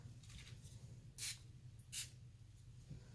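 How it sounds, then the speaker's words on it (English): Two short, sharp spray bursts of Colourpop All-Star face setting spray hiss onto a face about a second apart over a quiet background hum. "Again, Colourpop All-Star face setting spray."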